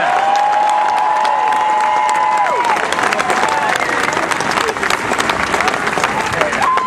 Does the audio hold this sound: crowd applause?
yes